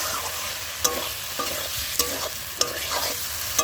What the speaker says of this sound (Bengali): আলুটা একটু ভাজা ভাজা করে নিচ্ছি